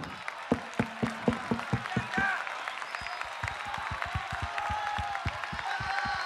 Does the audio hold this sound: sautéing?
no